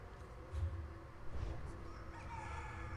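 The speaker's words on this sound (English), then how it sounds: "I swear I just heard a chicken." Chickens cluck in the video game The Elder Scrolls Online, a couple of faint, distant fowl calls rising briefly over low rumbling game ambience.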